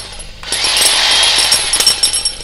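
A Japanese electric rotary hammer fitted with a chisel bit kicks on and pounds in rapid, loud, continuous hammering, a harsh close chatter that roughens and stutters near the end, with no voices.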